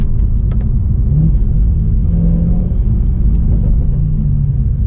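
A Mercedes-AMG C63 Black Series on the move gives a loud, deep, continuous engine rumble with road noise from inside the car, the tone holding steady with slight rises.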